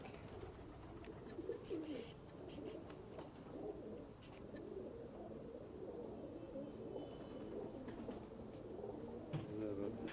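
Pigeons of a mason-type breed coo faintly at a loft in Wapda Town, soft, low, repeated calls mixed with insect chirping and a thin, constant high tone.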